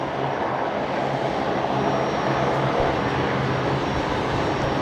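A Link Airways Saab turboprop comes in to land at Brisbane Airport on a windy day, a steady, moderately distant engine drone with a low propeller hum running throughout.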